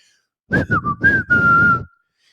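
A man whistles, imitating the derisive whistle of Mexican boxing fans in an arena: a few short chopped notes, then one long sustained note, close and clear with no talk.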